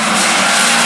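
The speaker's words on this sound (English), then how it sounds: "Boxer engine, it's only got to do what" A Subaru boxer-engined rally car on a club rally stage roars in a brief, very loud burst of broadband engine and wind noise, close by and alone.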